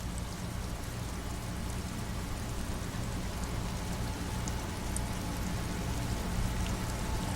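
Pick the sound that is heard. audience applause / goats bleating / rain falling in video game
rain falling in video game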